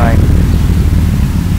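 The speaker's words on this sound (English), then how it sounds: "Motorcycle just passed by." Broad, loud roar of a motorcycle passing close by outdoors on a cloudy day, a brief rising whine at the start fading into a steady engine rumble.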